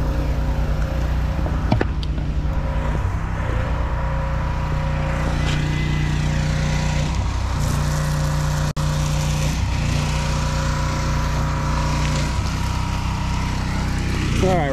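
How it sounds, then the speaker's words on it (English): A gasoline power washer engine drones steadily and loudly close by throughout, with a constant low hum and brief dips in pitch as the spray trigger is worked, while a few faint voices come through in the background. "Nate's got the power washer."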